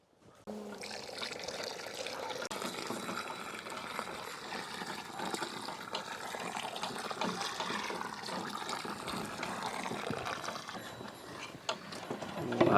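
Milk poured into a pot of ice apple (palm fruit) payasam cooking outdoors in a village, a continuous close splashing pour that runs for several seconds.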